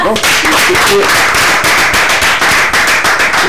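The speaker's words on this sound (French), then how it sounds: "applaudissez pour lui" A gathered crowd applauds a teacher: loud, dense, continuous clapping fills the whole stretch, with a voice briefly audible at the start.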